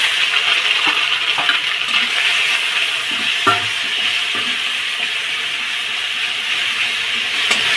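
Chilli paste and tomato fry in oil in a steady hissing sizzle, close and fairly loud, with a few faint clinks of stirring and no talk.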